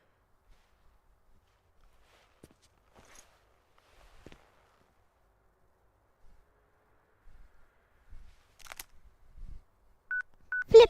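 A flip phone's keypad gives a few short, clipped beeps near the end, following a long quiet stretch broken only by faint clicks and rustles.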